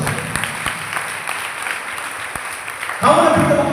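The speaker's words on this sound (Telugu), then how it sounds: "గట్టిగా చప్పట్లు కొట్టి దేవుని మహిమపరచండి" Congregation in a church clapping, with steady dense applause that swells suddenly louder near the end, voices faintly mixed in.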